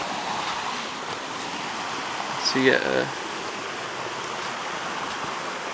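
Steady rushing water of Otter Slide Creek beside a forest portage in Algonquin flows continuously in the background, with a person speaking briefly over it partway through.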